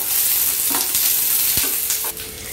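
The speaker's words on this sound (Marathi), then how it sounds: "पॅनमध्ये परत तेल टाकून म्हणजे आपला कांदा टमाटर आहे तो पण आपल्याला फ्राय" Onion and tomato frying in oil in a pan, a loud continuous sizzle with stirring scrapes and a few sharp clinks of the spoon against the pan.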